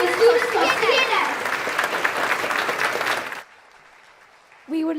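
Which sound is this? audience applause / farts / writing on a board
audience applause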